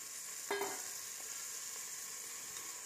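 Potatoes frying in hot oil for veg pulao, giving a steady soft sizzle with a brief scrape of stirring near the start.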